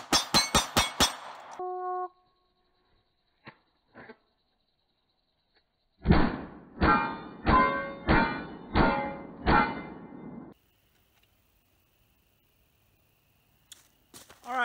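Rapid pistol fire from a CSX handgun with a 10-round magazine at an outdoor range, striking steel targets: a fast opening string of sharp cracks, then a spaced run of about six loud reports with ringing tails, and a couple of faint distant shots.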